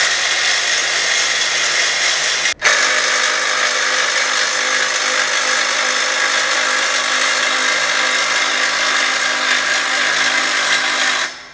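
Cordless impact driver running on a homemade scissor lift table, one loud continuous whir with a brief dropout near the start, then holding steady close by for about nine seconds before cutting off.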